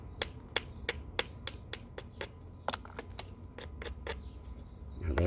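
A sandstone hammerstone strikes the edge of a stone to make a bevel, with a dozen or so crisp light taps in quick, fairly even succession, each a sharp click over quiet background.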